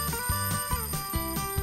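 A cartoon alarm clock bell rings loudly and continuously, its small hammer striking rapidly in a rattling, repetitive pattern, close up and alone.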